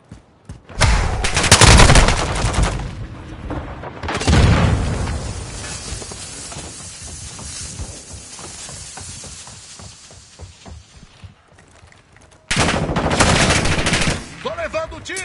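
Heavy bursts of gunfire and explosions from Call of Duty: Modern Warfare 2 multiplayer in loud, dense volleys, easing into quieter scattered shots before a final loud burst near the end.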